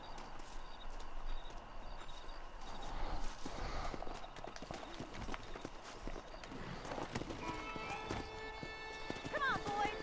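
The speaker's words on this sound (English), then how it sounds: "let's see if we can't wrangle some horses" Video game horses' hooves clip-clop at a steady trot with occasional whinnies, set against an outdoor ambience with a faint voice and some birds.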